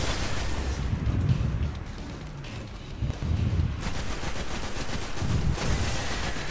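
Gunfire in Destiny as enemies are shot, a steady stream of loud, rapid shots with heavier booming bursts mixed in, continuous and close throughout.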